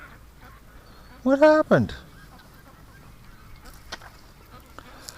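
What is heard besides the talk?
injured duck honking in a barn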